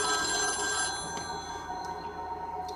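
Old telephone bell ringing in a film scene, a sustained metallic trill with steady repeated bursts, fairly loud and alone.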